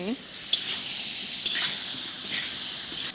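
Salt, turmeric and cumin powder being stirred in a hot cooking pan, a steady close sizzle and hiss with a couple of brief spoon scrapes, no voices.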